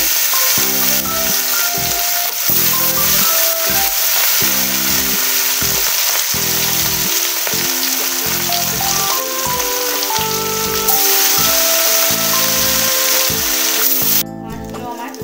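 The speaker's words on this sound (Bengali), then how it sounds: "মাছগুলি এখানে খুব ভালো করে লাল লাল করে ভেজে নেব" Marinated rohu fish fry in very hot oil in a kadai, giving a loud, steady crackling sizzle that fills the whole stretch, with music playing over it.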